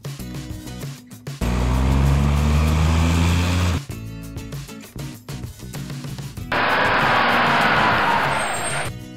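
Garbage truck engines revving and rolling past in two loud bursts, heavy low rumble with a whining pitch rise, then a brighter hissing roar, separated by quieter pauses with no voices.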